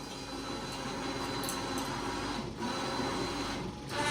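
Remote-controlled hitch-mounted winch running on a Kubota BX tractor, a steady continuous motor whine and grinding hum, close and unbroken, with no talk.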